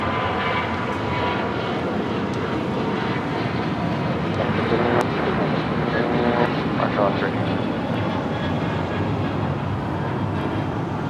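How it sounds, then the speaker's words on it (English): An Alaska Airlines Boeing 737-900 taking off on the south side at LAX, a steady, broad jet engine roar throughout, with a voice speaking over it. "Alaska Airlines Flight 1317 heading to Seattle, 737-900 now taking off here on the south side."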